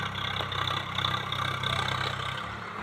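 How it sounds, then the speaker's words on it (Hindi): A tractor engine runs at a steady, rumbling idle in a farm field where crops are being sown, a continuous mid-low drone held close with slight throttle swells and no speech. "खेतों में ट्रैक्टर आ चुका है।"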